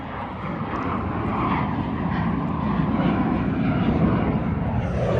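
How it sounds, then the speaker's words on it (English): A propeller airplane drones overhead, a steady broad engine roar that swells slightly as it passes, with no talking. "we got a plane going by."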